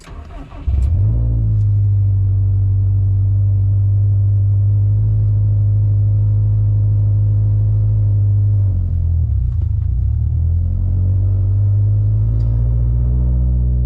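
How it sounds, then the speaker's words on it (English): A cold car engine, likely turbocharged, runs at a loud steady rumble, then dips and labours as the clutch is let out before pulling back up to a strong even drone, with no talking. "That dip is me letting the clutch out, and it's starting to get all that mass."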